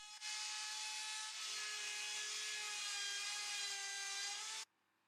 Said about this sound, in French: puis avec une fraise à affleurer sur la défonceuse